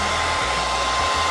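A hair dryer blows continuously and loudly at close range, heating window film on a boat porthole, with a steady airy roar and no voices.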